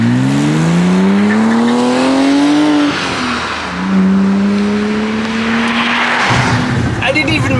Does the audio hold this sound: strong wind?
no